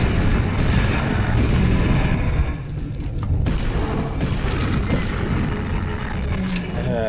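Booming gunfire from a gun in the survival video game Eternal Endurance: Lone Survivor, heavy, loud and sustained across the clip, dipping slightly midway before continuing.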